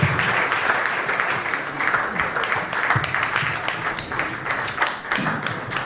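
Loud, sustained applause from an audience at a youth mentoring masterclass in Akwa Ibom State, a dense wash of many hands clapping close by without break.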